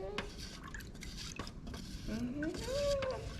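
Wood stain being stirred in its can with a stir stick, soft scraping and wet sloshing with light knocks against the tin and a few faint squeaky tones, quiet and close.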